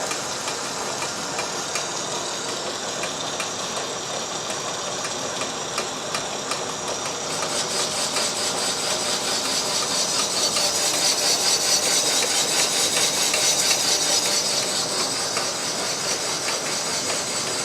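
A cylinder boring machine cuts a bore in an engine block, giving a steady mechanical whine and metallic hum that swells somewhat louder about halfway through and stays constant with no talking.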